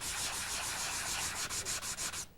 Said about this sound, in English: This is a diamond pad.